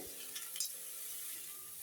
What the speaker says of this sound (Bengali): এখন এটাও আমি ভালোভাবে ভেজে নেব।